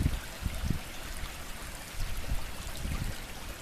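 Water draining through the broken gate of an old canal lock near the Monocacy Aqueduct, a close, steady rushing trickle with a few louder gurgles, heard alone.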